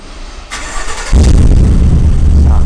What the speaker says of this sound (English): You have that quad exhaust tips down here, so as we start it up, you can take a listen here.